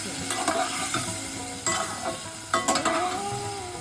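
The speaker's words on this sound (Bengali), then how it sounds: "এবার আমি দই দিয়ে দিচ্ছি ভেজে রাখা ফুলকপিটা মিশিয়ে দিচ্ছি" Yogurt is stirred into fried cauliflower in a hot pan for a Puja vegetarian thali, a steady sizzle broken by repeated scraping strokes of a spoon against the pan, close and without talk.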